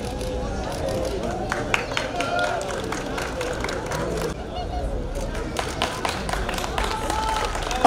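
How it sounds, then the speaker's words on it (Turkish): Scattered applause rises from a crowd at a rally podium ceremony, steady clapping and crowd noise with someone talking over it through a loudspeaker. "Alkışlar."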